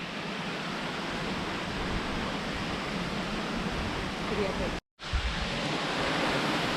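Waterfall in Northern New South Wales, a constant broad rushing roar of falling water, loud and close, briefly cut out near the end before resuming.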